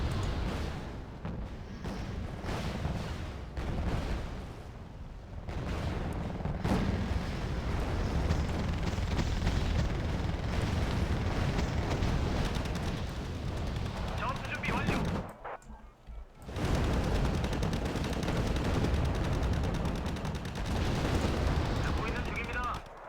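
TOS rocket artillery barrage in the wartime strategy game Wargame: Red Dragon, a dense, continuous roar of firing and explosions rolling on for many seconds with a brief lull, under a speaking voice.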